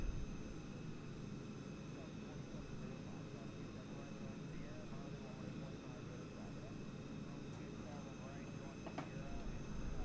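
Jet engines of a Boeing 737-200 taxiing in a flight simulator game, a steady droning whine at moderate level throughout, with someone talking over it.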